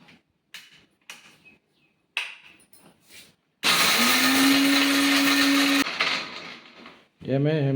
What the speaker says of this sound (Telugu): ఏమే మిక్సీ ఏమి అట్లా వస్తుంది సౌండ్? కొబ్బరి వేసినా కదా దానికోసం అట్లా సౌండ్ వస్తుంది